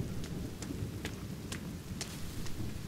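Rain and thunderstorm in the video game The Forest: steady dense rainfall hiss with a low rumbling bed and regularly spaced sharp crackles, continuous and moderately loud.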